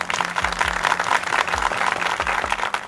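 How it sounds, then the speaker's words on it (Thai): Audience applause at a Thai friendship reality show awards finale, a steady dense wash of clapping that carries through the whole stretch with low rumbles and background noise beneath. "ขอเสียงปรบมือให้น้องอูด้วยครับ"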